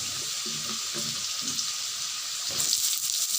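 Diced potatoes fry in hot oil as a steady sizzle with a hissing, watery wash, brightening toward the end, with faint low knocks underneath.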